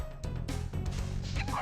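Dog enemies in Spyro the Dragon bark in quick cartoonish bursts amid game sound effects, a brief busy sequence of yips and woofs.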